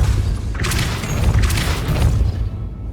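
A Depulso force spell cast in Hogwarts Legacy, a burst of broadband whooshing impact energy with a booming low thud, loud and close, over steady game ambience.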